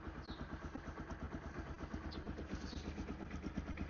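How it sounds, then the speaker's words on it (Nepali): A motorcycle engine idles steadily outdoors in Pokhara with a low, faint, even chugging rhythm and no voices over it. "बाइक चाहिँ एकछिन स्टार्ट गरौँ"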